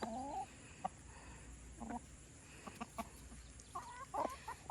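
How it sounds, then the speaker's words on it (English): Free-ranging chickens cluck intermittently while foraging for Grub Terra feed, soft murmured clucks and a few sharper calls against a quiet outdoor background. "these chickens are still out here looking for more"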